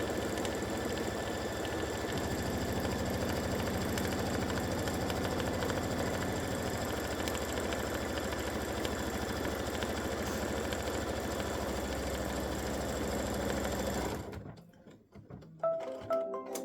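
An embroidery machine stitches a football design, giving a steady, fast mechanical whirr and rapid needle chatter that runs on continuously before stopping abruptly, leaving brief quiet and faint handling noises.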